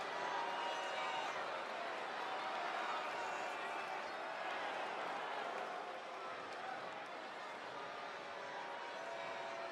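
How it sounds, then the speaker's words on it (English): Dense arena crowd murmur in the wrestling video game WWE 2K24 fills a large hall, a steady indistinct buzz of many voices with no single voice standing out. "The crowd is buzzing about what he has to say about the champ."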